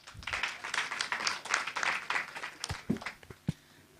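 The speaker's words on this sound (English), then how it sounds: "Let's clap for him." Conference audience clapping for a speaker, a moderate spread of applause that thins out into a few scattered claps.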